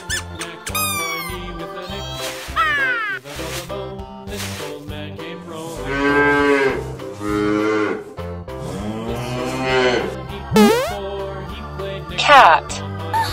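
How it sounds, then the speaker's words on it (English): A cow moos from a children's farm and zoo animal toy, with long, swooping tonal calls mixed among squeaky animal sound effects, loud and close with brief pauses between bursts. "Cow."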